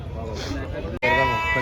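Goats bleat at the busy Jiyaguda goat market in Hyderabad, a wavering cry followed after a short gap by a louder, sharper bleat, close by amid general market noise.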